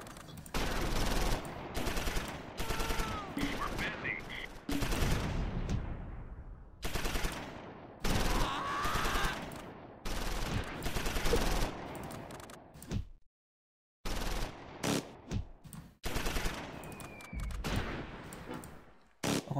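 Repeated loud fusillades of rifle and machine-gun fire in the game Close Combat: Normandy, set during the D-Day landing at Uncle Red beach near Quinéville, with dense overlapping bursts, a brief silent pause, then more firing.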